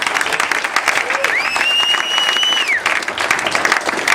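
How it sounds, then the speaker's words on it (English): A press-conference audience claps loudly at a mixed martial arts event, with dense continuous applause throughout and a whistle-like tone rising and holding over the clapping midway. "Come on, give a round of applause"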